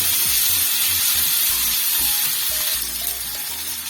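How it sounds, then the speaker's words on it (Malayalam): Chili powder sautés in oil in a pan for rasam, giving a loud, close, steady sizzle and hiss with a few soft stirring knocks underneath throughout. "ആ മുളക് പൊടി ഒന്ന് വഴറ്റി കൊടുത്തിട്ട് ബാക്കി പൊടികൾ ചേർക്കാം"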